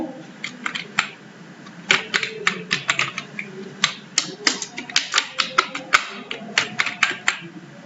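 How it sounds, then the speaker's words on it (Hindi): Computer keyboard keys tapped while entering shortcuts in Tally Prime accounting software, a close, irregular run of sharp clicks and quick clusters of keystrokes over a low room hum. "परचेज वाउचर में जाने के लिए हम कीबोर्ड से शॉर्टकट की F9 प्रेस करेंगे"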